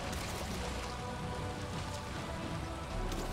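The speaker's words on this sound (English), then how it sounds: "What is this, an acid rain?" Acid rain in the video game Valheim, a dense and steady hiss of falling rain on surfaces that stays constant throughout and is heard alone at a moderate level.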